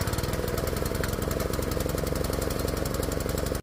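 A Billy Goat PR550-H dethatcher power rake engine runs loud and close with a fast, steady mechanical chatter that holds evenly, then cuts off abruptly at the end.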